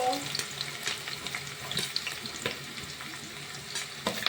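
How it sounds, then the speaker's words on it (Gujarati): Onions frying in a pan for dry cabbage Manchurian, a constant close sizzle with repeated scraping strokes of a spoon stirring them, no voices. "ડુંગળી એડ કર્યા પછી એને મસ્ત મજાની છાતળી લેવાની છે થોડીક વાર અને હલાવવાનું"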